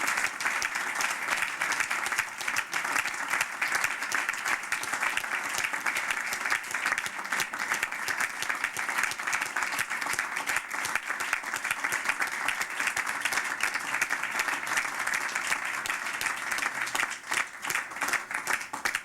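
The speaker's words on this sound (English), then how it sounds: "Let's give the GE team a great round of applause." An audience at a New Orleans announcement event for a new GE Capital technology center applauds the GE team, producing a long, sustained, dense round of clapping from many people.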